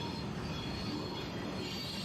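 A train rolls past at close range while a car crosses a highway bridge in Calico Rock, Arkansas, giving a steady, loud rumble and rail noise with a faint high squeal, no talk over it.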